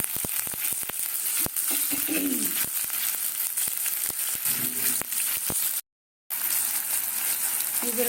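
Chopped onions sizzle in refined oil in a kadai, a steady bright frying hiss running close and loud with faint clicks and stirring, briefly dropping out to silence near the end.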